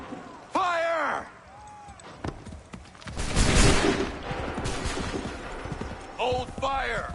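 Musket volley fire in the video game Assassin's Creed 3: a thick burst of shots in the middle, between shouted battlefield commands, with running footsteps and shuffling around it.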